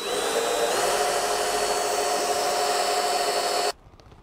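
A power drill bores a seatbelt mount hole in the metal of a Celica-based dune buggy sand rail. Its motor whines loud and steady, shifts pitch slightly under load, then cuts off abruptly near the end.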